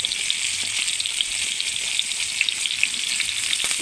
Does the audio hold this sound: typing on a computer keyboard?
no